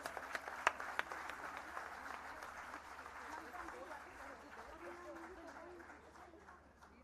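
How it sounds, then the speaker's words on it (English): Audience applause at a Bharata Natyam arangetram dance event, with scattered sharp claps at the start settling into a softer, thinning round of clapping while voices murmur underneath and the sound fades toward the end. "Let's have a louder round of applause for them,"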